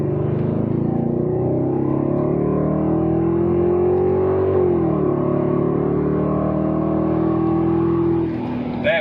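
BMW 8-Series accelerating in second gear in Steptronic mode, heard from the cabin as a steady rising engine drone that climbs in pitch, dips briefly at a shift, then holds strongly to the end.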